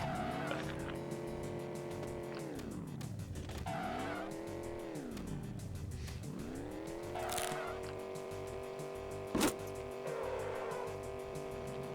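A car in a video game revs and skids as it drives repeatedly into the same rock, its engine pitch diving and climbing in several swoops, with tire scrubbing and a sharp bang of impact late on.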